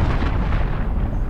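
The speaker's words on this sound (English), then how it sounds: "Enemy cruise missile, take cover." An enemy cruise missile explodes in a video game, a loud rumbling blast that fills the short moment and decays without a break.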